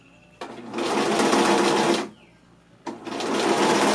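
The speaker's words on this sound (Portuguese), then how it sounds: "Vou dar o retrocesso. E vou seguir aqui a costura. Na beiradinha do viés." A sewing machine stitches along the edge of bias binding on a bag, running loud and close in two steady bursts separated by a short pause.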